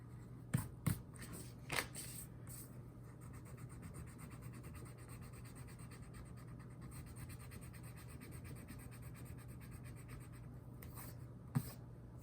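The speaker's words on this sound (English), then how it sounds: "I'm gonna erase all these lines." An eraser rubs out pencil lines on paper in a drawing of a building in three-point perspective. It makes a soft, steady scratchy rubbing with a few sharper scrapes and taps near the start and end, close up and quiet.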